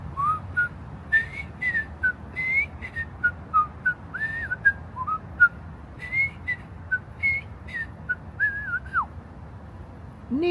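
Someone whistles a bright, lilting melody alone, with clear rising and falling notes and short pauses between phrases.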